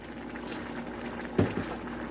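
A covered pot of Rastafarian-style lentil dhal with chunks boils steadily on the stove, giving a continuous bubbling hiss with one louder pop or clink near the middle, and no talking.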